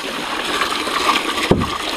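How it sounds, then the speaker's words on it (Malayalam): Water splashes and runs close by while beef is being washed, a continuous wet rush with one sharper splash near the end and no voices. "നമ്മുടെ ബീഫ് കഴുകിയെടുക്കാനുള്ള വെള്ളം ഉണ്ടാ"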